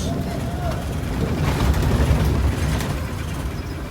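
Inside a large ferry ship crossing from Java toward Bali with a bus aboard, a loud continuous low engine rumble and hull drone fills the space, with mixed background commotion and people talking.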